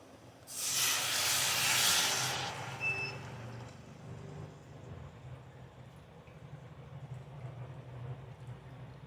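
Tamarind juice poured into a hot pan of garlic and cumin for fish curry, a loud sharp hiss and sizzle bursting up close for about three seconds, then settling into a low steady simmer.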